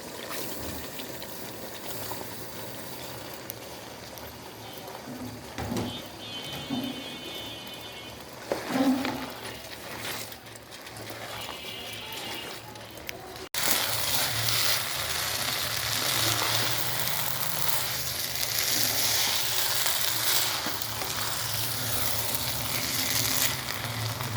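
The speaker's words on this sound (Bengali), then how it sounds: "এখন আমি এখানে ধুয়ে রাখা পোলাও দিয়ে দিচ্ছি" Washed rice goes into a pot of cooking chicken and potatoes for chicken biryani. A soft sizzle with a few clinks and bumps gives way midway to a louder, sustained rush of hissing. No one talks.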